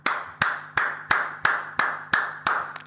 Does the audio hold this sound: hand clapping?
yes